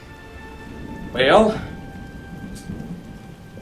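Steady rain and rolling thunder during a storm with washed-out bridges, with a louder rumble swelling briefly near the start over constant downpour; a voice speaks a single word.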